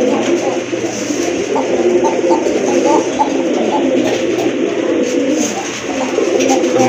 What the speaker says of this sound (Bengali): খুবই সুন্দর ডাকে কবুতরটা